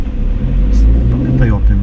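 During a driving lesson, a car pulls away with a deep, steady engine rumble that stays close and loud throughout.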